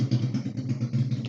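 A motorcycle engine passes outside, a low, uneven rumble that stays faint and distant behind an indoor room for just over a second.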